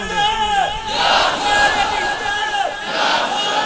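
A large crowd answers a religious slogan at a devotional gathering with a loud, massed chant, voices surging together in a sustained collective shout.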